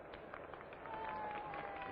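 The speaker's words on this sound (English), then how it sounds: "The crowd responds with some applause." Faint, distant crowd applause swells gently at a 1960 World Series baseball game at Pittsburgh, heard as a soft, muffled old broadcast wash.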